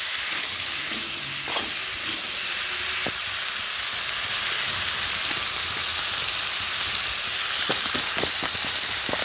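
Prawn and taro curry with ground cumin and ginger paste sizzling steadily in a pan as it is sautéed, a constant broadband frying hiss with a few light clicks of stirring scattered through, no voices.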